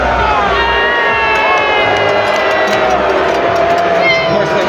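A large crowd in a junior hockey arena during a Brampton Steelheads at Oshawa Generals playoff game roars and boos loudly and steadily throughout, a dense wash of voices with shouts rising over it.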